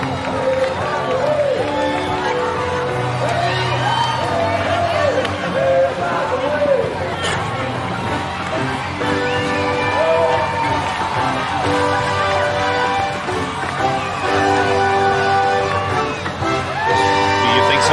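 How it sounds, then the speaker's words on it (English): Parade crowd along the route of the 2004 Krewe of Endymion parade cheering, whooping and chattering, a dense festive roar with voices close by and music faintly mixed in. "I don't think the crowd cares either right now. They're loving it."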